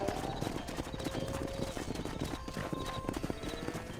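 Horse hooves clip-clopping in a video game, a quick steady trot of repeated hoof strikes at moderate distance, with faint tonal game sounds behind and no clear speech.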